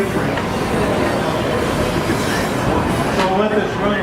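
A train rumbles past close by with a dense rolling roar and clattering wheels, steady and loud throughout, with faint talk mixed underneath.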